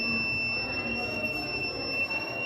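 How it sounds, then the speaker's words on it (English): An obstacle-sensing alarm gadget emits a steady, fairly quiet high-pitched electronic tone that holds unbroken throughout, with faint room noise beneath it. "Now the alarm is working and it will sense any kind of obstacle."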